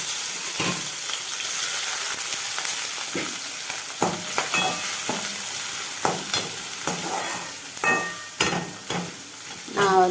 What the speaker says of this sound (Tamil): இப்போ இந்த எண்ணெய் காஞ்சிருச்சு. காஞ்சதில் வந்து இந்த கருவாடை வந்து அள்ளி போட்டு